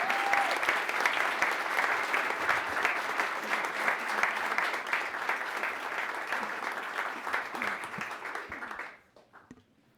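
An audience claps warmly in welcome for Britt Hart at a college event, dense steady applause filling the room for about nine seconds before quickly dying away to near silence.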